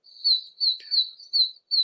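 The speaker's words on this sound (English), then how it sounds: "In southern Alabama, we have a really tiny toad called the oak toad." A tiny oak toad of southern Alabama gives high, thin, bird-like peeping calls in a quick regular series of about five chirps, close and clear, with a brief click in between.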